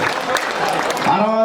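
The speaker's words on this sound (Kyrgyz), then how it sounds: "кол чаап койсоңуздар." Audience clapping breaks out at a large wedding feast, a brief burst of applause mixed with a voice speaking over it.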